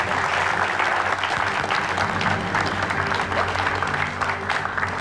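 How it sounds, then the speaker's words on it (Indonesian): Studio audience at an Indonesian religious talk show claps to welcome a woman guest onto the stage: dense, steady applause, loud and close, lasting throughout with a faint low hum beneath. "Tepuk tangan boleh buat narasumber saya."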